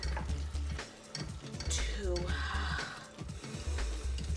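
Sherry is poured into a pan of cooking onions for French onion soup, bringing a sudden hissing sizzle that swells, then settles back into steady frying and stirring. A voice talks at the start.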